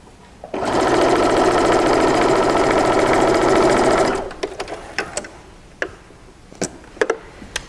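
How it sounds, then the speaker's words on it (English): A sewing machine stitches quilt fabric pieces together in a loud, steady, fast-rattling run of about three and a half seconds, followed by a few light clicks and taps as it stops. "put my my white piece on the other side of the orange and sew that one down as well"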